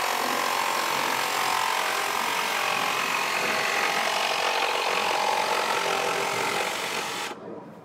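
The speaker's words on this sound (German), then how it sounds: "jedes Brett paust der Schreiner ab und sägt es aus" Carpenter sawing out wooden boards for a children's playhouse, a continuous, close rasping saw stroke that stays loud and even before stopping abruptly at the end.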